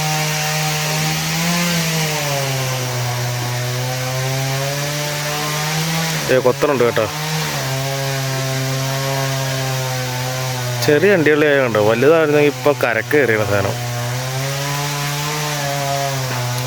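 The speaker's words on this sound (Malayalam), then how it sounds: "ഇവിടെ സൈഡിൽ മരം മുറിക്കണുണ്ട്, അതുകൊണ്ടാണ് കേട്ടോ ഒരു സൗണ്ട് കേൾക്കണത്" A chainsaw cuts a tree close by beside a riverside fishing spot in Vaikom, Kottayam, Kerala, its droning engine whining steadily throughout with pitch shifts as it bites, while someone talks over it.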